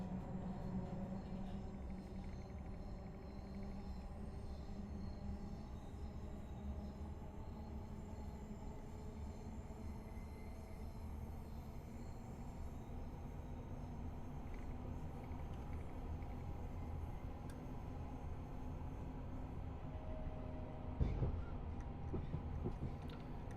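A passenger train on a Scottish route bound for Glasgow in Train Sim World 4 hums and rumbles steadily throughout, with faint wheel squeal and a brief louder knock near the end, and no talk over it.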